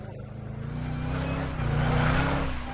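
A Shelby GT500 Super Snake driven hard on a racetrack, a loud, steady engine roar from inside the car that climbs in pitch and volume as it accelerates.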